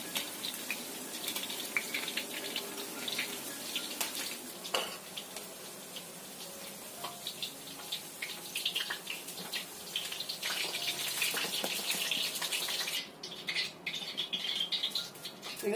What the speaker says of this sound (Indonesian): kemudian kita goreng yang selanjutnya tuh kayak gini ya